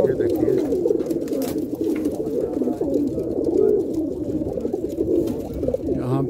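Many racing and high-flyer pigeons in a pigeon loft coo together in a steady, overlapping low warble, close and continuous with no pauses.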